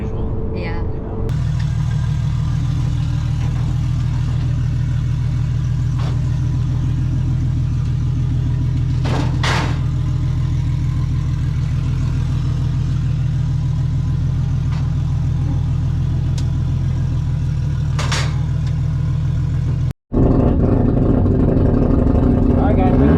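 A 1JZ-engined Fox Body car on a drag strip drones with a loud, steady engine tone for about twenty seconds, then cuts off sharply before the sound picks up again.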